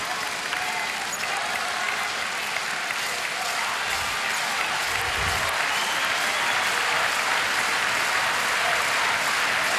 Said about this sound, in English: The crowd again trying to inspire the home favourite.